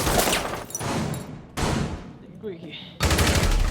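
Rapid bursts of gunfire shot through walls during a competitive video game match, several loud close volleys separated by short gaps, with no talk over them.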